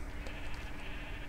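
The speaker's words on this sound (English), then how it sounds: "a couple of coloured sheep down there" Colored sheep bleat in the block-building video game Minecraft, faint short calls over a low background bed, with no talk.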